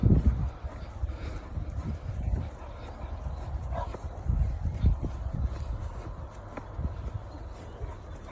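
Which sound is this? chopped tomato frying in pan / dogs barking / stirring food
dogs barking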